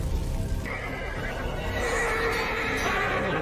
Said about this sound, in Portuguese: pelo visto, o cavalo não é fantasma